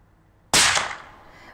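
A hunter's rifle shot during a stalk, one sharp loud crack that bursts out suddenly and rings off into a short decaying echo, with quiet outdoor stillness before it.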